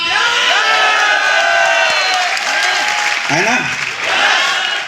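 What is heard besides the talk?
rally crowd cheering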